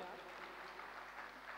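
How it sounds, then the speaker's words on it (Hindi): An audience at a cultural evening event applauds, a faint, distant, steady patter of clapping for a short moment, with talk nearby. "भारी तालियों से इनका अभिनंदन कीजिए आप"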